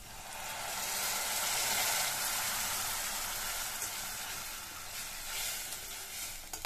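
Masala spice mix for mutton gravy sautéing in hot oil in a pan, a steady close sizzle and crackle running unbroken throughout with light stirring, no voices.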